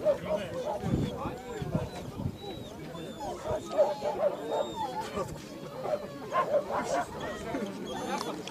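Hunting dogs at a dog show in Revda, Russia, bark and yip in scattered bursts at moderate distance, while people talk nearby throughout amid crowd noise.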